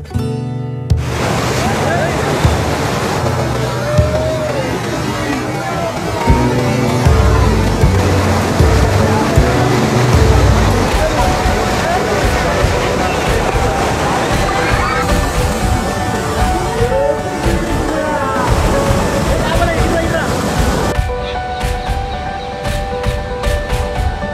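Heavy river water from the lifted gates of the Musi project dam rushes and roars in a loud, continuous wash. Wind buffets the microphone, and people talk beneath the flow.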